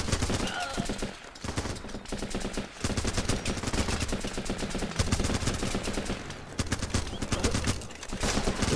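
Rapid automatic gunfire in the video game Running with Rifles: loud, sharp bursts rattle almost nonstop, with brief gaps between volleys.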